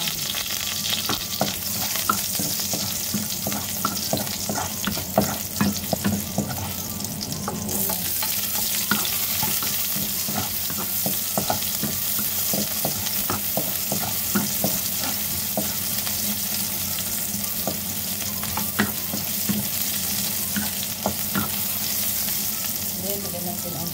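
Garlic sizzles and crackles steadily in a hot pan while being stirred, a loud, continuous frying hiss with scraping stir strokes, the first step of a chicken, carrot and potato dish in coconut milk.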